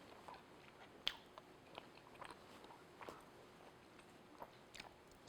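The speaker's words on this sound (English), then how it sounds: "Sorry, we have to chew." Someone chews a soft, fluffy cream bun made with bread flour and butter, with repeated small bites and moist mastication clicks at an irregular rhythm, close and quiet, with no talking.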